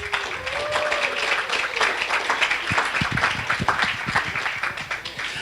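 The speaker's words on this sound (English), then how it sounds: "So everybody give Rowan a round of applause for that." An audience at a talk applauds, steady moderate clapping spread across a room with a few louder nearby claps, continuing evenly throughout.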